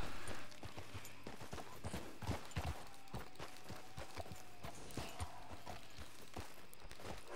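Horse hooves walk steadily in the Red Dead Redemption video game, a repeated, fairly close clopping rhythm with an even gait over a constant low background hum, no talk present.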